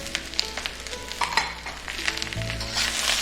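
Onion and celery stir-fry in a pan for black pepper chicken, a steady close sizzle with scattered scraping clinks of a utensil stirring, growing slightly louder toward the end.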